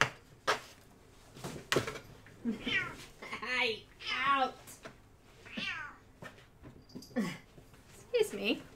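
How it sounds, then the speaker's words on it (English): A two-year-old cat meows over and over indoors, each call rising and falling, close and fairly loud, with a few short gaps and some handling noise between the cries. "A 2-year-old cat."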